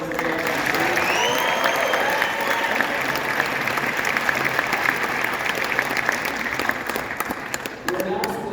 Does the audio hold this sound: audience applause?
yes